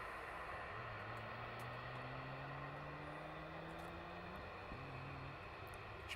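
An Air Logic aircraft taxiing out at East Midlands Airport at night gives off a steady distant engine drone with a slowly rising tone under broad background roar, faint and continuous, with no talking.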